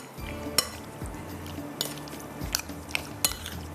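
Spoon scraping and clinking against a bowl while mixing mutton marinade, soft irregular taps and chinks at close range, quiet with no talk.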